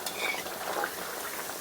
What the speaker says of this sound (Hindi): तेल बिल्कुल गर्म होना चाहिए, तो अच्छे से फ्राई कर लें